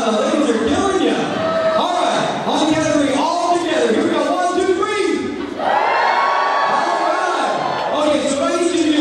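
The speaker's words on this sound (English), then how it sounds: "I want to hear you scream, "Hoorah!"" Wedding guests cheer and scream together as a loud, continuous crowd roar, with whoops and shouts rising and falling over about nine seconds, brief dip midway before surging again.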